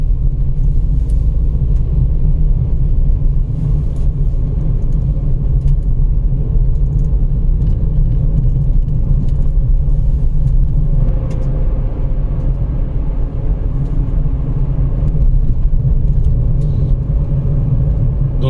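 A car drives at night through dense forest in Jim Corbett National Park, its engine a steady, loud low rumble that continues without a break and with no voices.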